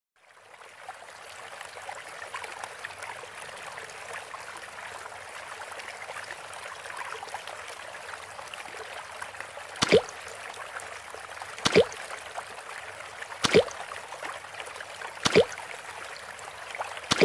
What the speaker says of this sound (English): I love the peaceful sound waterfall.